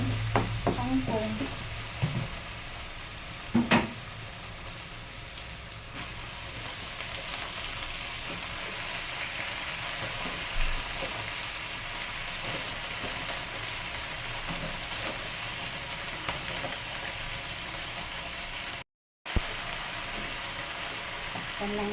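Water spinach (kangkong) stir-fries in a pan with a steady crackling sizzle, a few clatters of utensils stirring near the start, and the frying carrying on evenly and close throughout.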